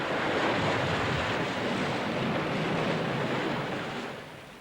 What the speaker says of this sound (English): Waves carry energy,